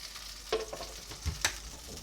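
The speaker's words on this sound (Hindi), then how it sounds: "अब मैंने इसमें डालनी है ये प्याज और टमाटर की पेस्ट।" Onion and tomato paste dropped into ghee with fried ginger paste for kofta curry, a soft frying sizzle with a couple of spoon knocks, brief and close.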